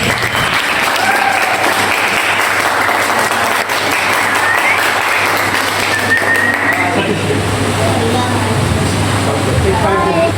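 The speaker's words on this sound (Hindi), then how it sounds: "आपकी बहुत सी तालियों में डॉक्टर शहबाज साहब तशरीफ लाएंगे" Audience in a hall applauding as a guest arrives for a talk program, loud continuous clapping filling the room for about ten seconds with a low hum underneath.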